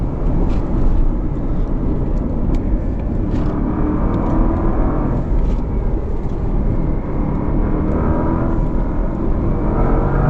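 Porsche Panamera Turbo S E Hybrid accelerating hard with quick gear changes, heard from inside as a steady loud engine and road roar with small clicks and shifts, no voices.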